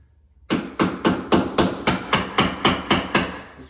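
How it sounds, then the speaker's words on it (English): A chisel is struck repeatedly to pry molding off a wall, giving nine sharp, evenly spaced metallic taps after a brief quiet start, each loud and close with a short ringing decay. "I'm just going to try and use a chisel here and see if we can get this molding off here"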